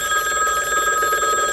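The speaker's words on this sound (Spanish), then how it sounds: "Ah, sí, ahora, suena el teléfono." A telephone rings insistently in a home, a steady, loud, continuous electronic bell tone with no voices over it.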